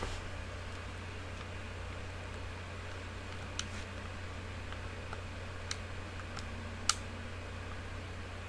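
Sparse keystrokes on a computer keyboard connected by USB Type-C, a few isolated clicks spread apart and faint over a steady low hum.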